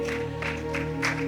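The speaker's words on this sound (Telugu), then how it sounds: "చప్పట్లు కొట్టండి." A church congregation claps in a steady rhythm, about three claps a second, over sustained musical tones, a lively and moderately loud patter.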